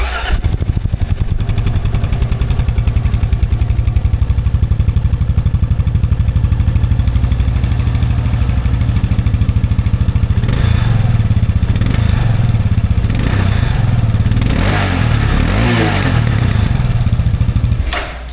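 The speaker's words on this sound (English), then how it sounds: "let me show you what this stock bike sounds like. This is kind of a cold start" Stock Kawasaki KLR 650 single-cylinder motorcycle with its stock exhaust, cold started: a loud close chugging idle with a rapid even thump, then several sharp throttle blips revving up toward the end.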